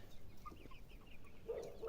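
Farm chicks raised from incubator hatching to adulthood give soft, faint clucks and chirps in a quiet pen, several short calls scattered across the moment.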